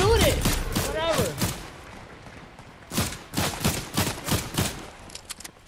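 Gunfire from the video game Fortnite crackles in a quick volley of shots followed by a later string of rapid bursts, while a player's voice shouts over the first part.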